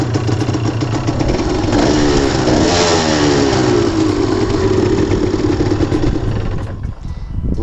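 A motorcycle engine kick-started from cold on a single kick catches at once and runs loud and close, rising and settling in a steady rumbling idle for several seconds before a brief dip at the end.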